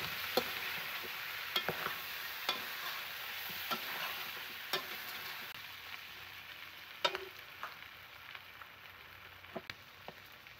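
Mushrooms are stirred into a pan of creamy chicken adobo, with a soft sizzle running underneath and a spoon scraping and tapping the pan at irregular intervals.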